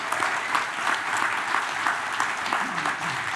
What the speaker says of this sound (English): I think that deserves a round of applause right there.